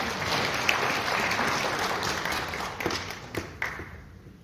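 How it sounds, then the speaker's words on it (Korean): Audience applause at a CEO management seminar in a hotel, a moderate wash of clapping with a few sharper taps and thuds standing out, gradually fading toward the end. "큰 박수 부탁드리겠습니다"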